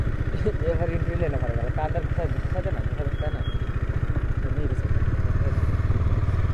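A motorcycle engine at the Dwijing festival in Assam throbs in a rapid, steady pulse, loud and close, with voices and crowd noise mixed in around it.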